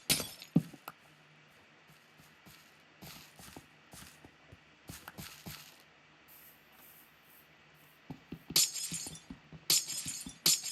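Glass blocks broken with a silk-touch pickaxe in the Minecraft game, sounding as several separate crisp crackling breaks scattered across the stretch, with bursts of louder shattering toward the end and no talk.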